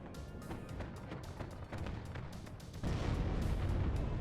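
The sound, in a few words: artillery fire in the video game WARNO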